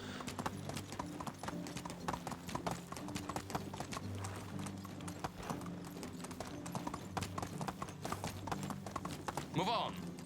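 Horse hooves clip-clop at a steady trot in the video game Medieval Dynasty, a continuous rhythmic patter that runs the whole time over a faint ambient background.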